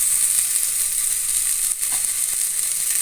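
Tomato frying in a pan for avare bele sambar sizzles as a loud, steady, bright hiss throughout, with no voices.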